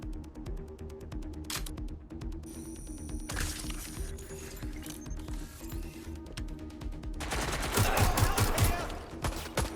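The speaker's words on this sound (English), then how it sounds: "Suspect is shooting! Taking fire!" Gunfire in a shootout in the video game Watch Dogs Legion: rapid bursts of automatic shots and scattered single cracks over a background hum, building into a loud, dense volley near the end.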